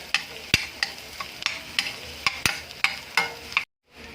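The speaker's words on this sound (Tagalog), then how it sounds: "igigisa na natin tong ating mga spices. Yung aromatic. Bawang." Garlic sautéing in a pan for mixed vegetables, with a steady sizzle broken by sharp, regular scrapes of a spatula roughly every half second, close and loud, ending abruptly in silence.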